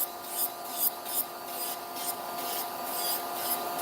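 A small electric nail drill whines at a steady pitch while a rhythmic scratchy rasping comes and goes against it as it files nail extensions, close up and fairly quiet.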